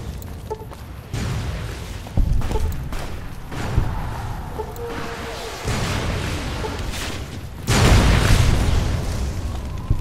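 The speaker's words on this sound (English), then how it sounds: "Oh my god, that was a big grenade." A large grenade blast in Fallout: New Vegas lands as a heavy boom with a deep rumble, set among other thumps and pops of combat, with talk nearby.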